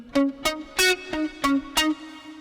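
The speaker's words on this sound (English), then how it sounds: "you get that sound like it's clipping, and that's because you don't have a cab on" Electric guitar played through an amp simulator with no cabinet, a series of picked notes and chords, about six strikes in steady rhythm, each with a harsh, fizzy, clipped edge, loud and alone.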